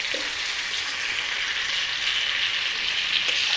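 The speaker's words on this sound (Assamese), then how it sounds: "আৰু এই মাংসখিনিৰ সৈতে পিঁয়াজখিনি গোটেইখিনি আমি ভালদৰে ভাজি ল'ম" Marinated chicken frying with onions in a pan, a loud, steady sizzle throughout, with a faint clink of a utensil near the start and again near the end.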